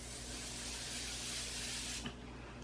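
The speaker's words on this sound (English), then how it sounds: "So I'm gonna use my Morphe Continuous Setting Mist." Steady hissing spray of Morphe Continuous Setting Mist onto a face, one long continuous burst of close fine mist that cuts off abruptly near the end, followed by quiet room tone.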